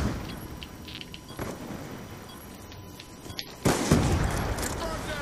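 Gunfire in Call of Duty Black Ops 2, a few scattered shots followed by a loud burst near the end and continued rattling, heard over quiet background game sound.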